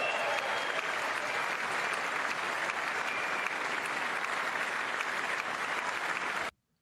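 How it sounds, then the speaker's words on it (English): A large chamber audience at the State of the Union address breaks into loud, continuous applause, a dense wash of clapping that holds steady for several seconds and then cuts off abruptly. "Oh, the applause."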